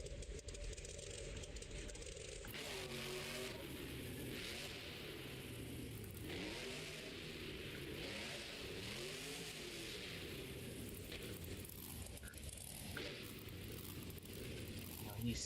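Tom Mentz's Maximum Destruction monster truck at a Nashville freestyle event, its big engine revving and rumbling steadily in rising and falling surges, with an announcer talking over it throughout.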